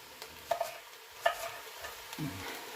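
Pork and onions browning in an Instant Pot, a low steady sizzle with a few light stirring knocks and scrapes, no talking.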